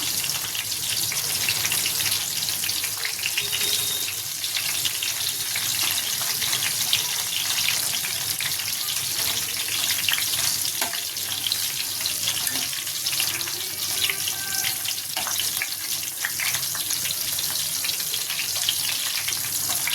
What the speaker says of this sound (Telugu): ఇలా ఫ్రై చేసుకోవాలి ఒక 10 నిమిషాలు. అటు ఇటు తిప్పుకుంటా ఫ్రై చేసుకోవాలి.